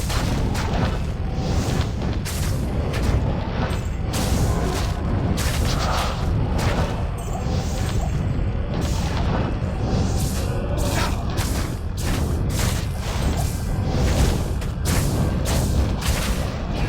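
Druid fire spells from a maximum fire damage Armageddon build in Diablo 2 burst over and over, a dense, unbroken stream of booming explosions and crackling blasts. The impacts follow in quick succession at a loud, steady level.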